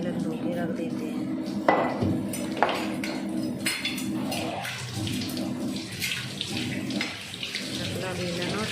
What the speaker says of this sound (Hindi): रोटी बनाने के बाद चकला बेलनी धो के रख देते हैं।